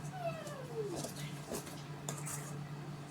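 A cat in a kitchen gives a drawn-out, falling meow, then a couple of softer mews under steady room hum and light clatter, moderately close.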